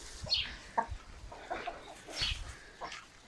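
Chickens cluck nearby in short, scattered bursts, several soft calls overlapping irregularly at close range with no talking.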